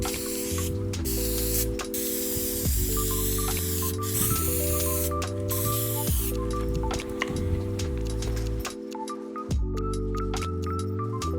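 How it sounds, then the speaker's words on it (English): Brake cleaner sprays in repeated hissing bursts onto an oil stain, close and fairly loud over steady background music. "brake cleaner."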